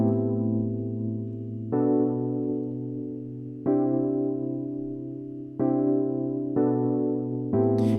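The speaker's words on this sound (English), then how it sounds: "I started out with an electric piano." Electric piano playing a slow progression of minor 9th and 7th chords on a vintage keys sound, each sustained chord struck about every two seconds and fading gently, heard alone and clear.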